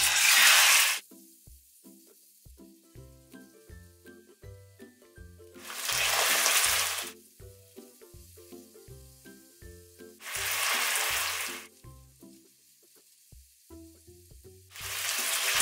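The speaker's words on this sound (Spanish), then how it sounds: "voy a sellar 500 gramos de pechuga de pollo cortada en cubos" Cubed chicken breast sears in olive oil in a saucepan, with loud sizzling bursts that come and go every few seconds over soft background music.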